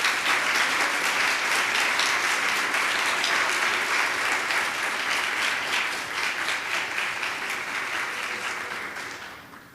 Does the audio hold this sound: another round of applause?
yes